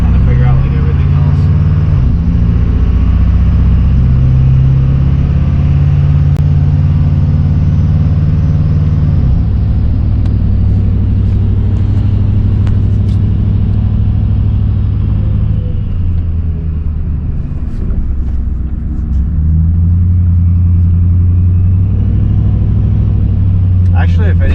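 A Ford 6.7 Powerstroke diesel pickup with an upgraded turbo drives while towing a trailer, its loud steady engine drone rising and falling under cabin talk.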